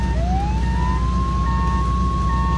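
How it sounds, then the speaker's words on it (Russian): An ambulance siren in the video game Flashing Lights rises and wails steadily over a low rumbling engine drone, sounding close and loud for the whole stretch. "Там скорая пробирается."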